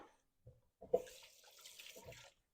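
Water runs from a kitchen tap as hands are rinsed while cooking sun-dried tomato spaghetti, a soft steady splashing stream lasting about a second and a half after a few small clunks.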